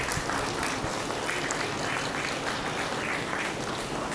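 A wedding ceremony crowd claps steadily: dense, continuous applause from many guests, loud and even for the whole stretch, with no voices standing out.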